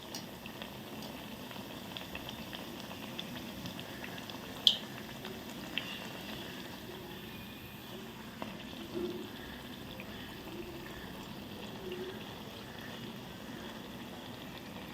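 Bhajani vada frying in hot oil on a medium flame while oil is splashed over it: a faint, steady bubbling sizzle with a few small sharp spatters and taps, no talking.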